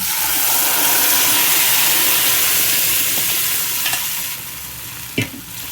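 Tempering spices for a leafy greens curry sizzle and crackle steadily in hot oil up close, with a spoon scraping and stirring the pan and a sharp clink near the end.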